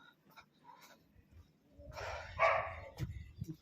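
Several dogs bark in a quiet village lane, a cluster of rough barks rising in the second half with a few sharper yaps at the end, moderately distant.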